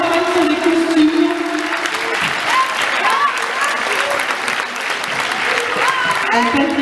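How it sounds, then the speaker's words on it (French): Audience applause fills the room at a Christmas roller skating gala in Reims, steady and dense throughout, with a voice talking over it on a loudspeaker. "On peut l'applaudir encore une fois parce qu'elle fait un bon travail sur les costumes."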